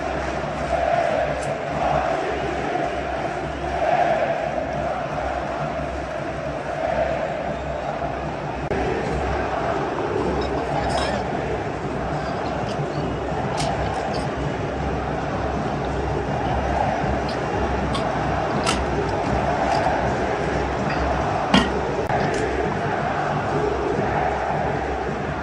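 Flamengo supporters at the Maracanã stadium chanting against coach Tite, a dense sustained crowd roar with steady rhythmic singing heard from within the stands, loud and continuous throughout.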